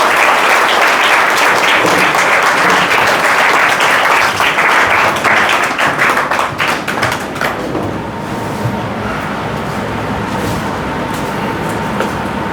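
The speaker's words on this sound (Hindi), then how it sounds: "तालियां हल्की पड़ रही है आपकी" Loud, dense applause from a large audience at an event, strong and sustained for several seconds before easing into quieter, thinner clapping that continues to the end.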